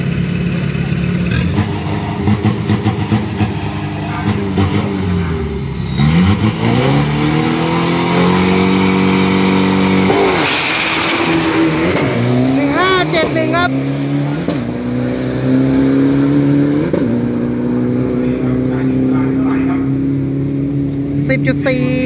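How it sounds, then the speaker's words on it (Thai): A turbocharged steel pickup truck revs hard at a drag strip, its engine loud and close, surging and climbing in pitch through several rising sweeps, with a voice talking over it. "ขยี้คันเร่งครับในรุ่นของรถบ้านโชคคู่รถเหล็กนะครับ"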